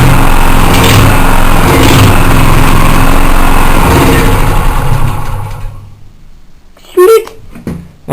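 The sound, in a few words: petrol generator engine running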